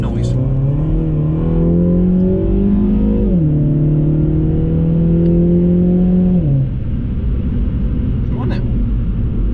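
A new Mini Cooper S engine revs hard in second gear, a loud, steady rising drone that holds high, then climbs again before dropping off as the throttle lifts.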